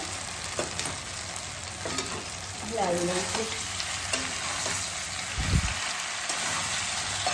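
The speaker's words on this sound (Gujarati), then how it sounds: "હવે આપણે એમાં ઢોકળાને એડ કરી લઈશું." Dhokla pieces being stirred into hot oil with crackled mustard seed tempering, a steady close sizzle with scraping stir strokes and a short low thump near the end. Brief speech is heard.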